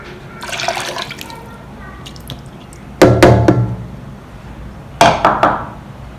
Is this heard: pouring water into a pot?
yes